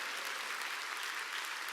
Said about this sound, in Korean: 박수 치라니까